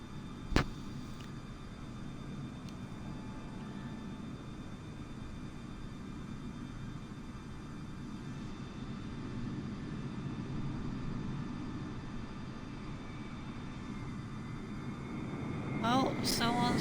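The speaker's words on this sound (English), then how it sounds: "Wow, that is a massive aircraft." A massive airliner arriving at a runway in Microsoft Flight Simulator gives a steady, broad jet-engine roar that swells slightly toward the end, with a voice talking faintly at moments.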